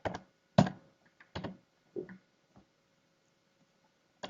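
Typing on a computer keyboard, a handful of sparse, close key presses and clacks separated by pauses in an otherwise quiet room.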